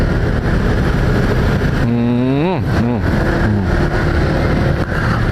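Congested city traffic on Jalan Dewi Sartika, with cars and motorcycles idling and creeping close by in a steady engine rumble, one engine note rising and falling midway while people talk over it.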